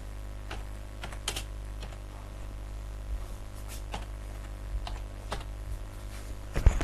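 Keys clatter on a computer keyboard as a gallery title is typed, irregular light taps in short bursts over a steady low hum, close and moderately quiet, with one sharper thump near the end.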